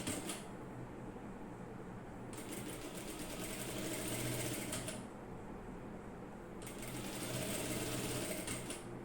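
A sewing machine stitches the folded hem of an umbrella-cut skirt in two runs of steady, rapid whirring, separated by a short pause, close and alone with no talking.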